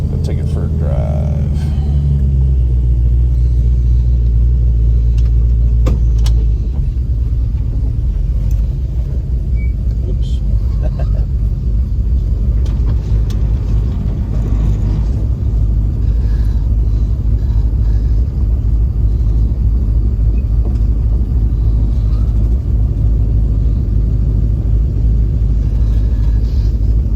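A 1966 Ford Mustang with power steering drives along, its engine a loud, steady, close rumble from inside the car, with a voice talking over it at times.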